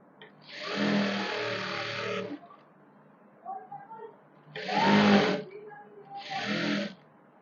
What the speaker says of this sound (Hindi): इस तरह से फोल्ड करते हुए हम पूरे फैब्रिक पर एक सिलाई लगा लेंगे।